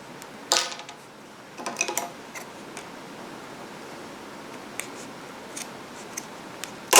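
Scissors snip through cotton yarn close by, with a couple of sharp cuts early on and light ticks and handling noise afterwards.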